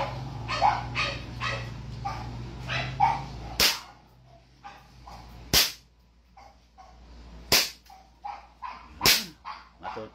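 A 2011 Hi-Capa 3.8 airsoft pistol fires four sharp, loud cracks spaced a couple of seconds apart, with quieter clicks and voices in the gaps.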